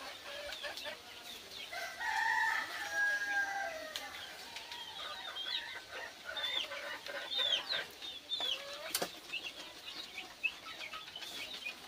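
Free-range desi hens clucking around their coop, steady overlapping clucks and calls with a rooster-like crow, wing flaps and scattered bird chirps nearby throughout.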